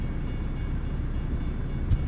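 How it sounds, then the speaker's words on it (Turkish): A train passing at a crossing in American Truck Simulator, a steady, loud rumbling rush of rolling wheels with faint periodic clacks, heard from close by with no voices. "Hadi babacım geçti tren devam et"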